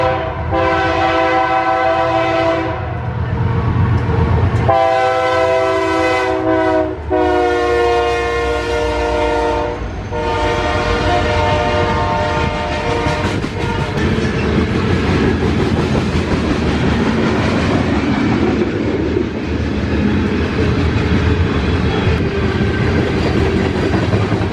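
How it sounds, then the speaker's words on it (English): A westbound Red Rock coal train passes at Emporia, Kansas, powered by two GEVO locomotives, an ACE and a worn AC44. It opens with loud, sustained horn blasts, then a long, heavy rumble and clatter of cars rolling by. "a westbound Red Rock Coal with 2 GEVOs, an ACE, and a crispy AC44 for power"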